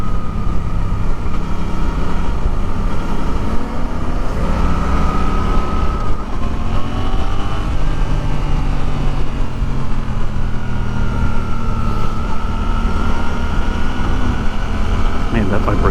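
Engine of a 2024 Suzuki GSX-8R motorcycle under way, a steady droning hum with shifting harmonic tones and constant wind rumble, loud and continuous throughout.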